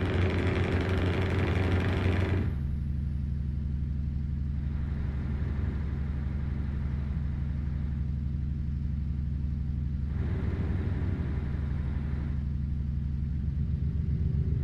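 A truck engine idles in Euro Truck Simulator with an engine sound pack, a loud, steady low rumble that holds on alone, the higher whine dropping away after the first couple of seconds.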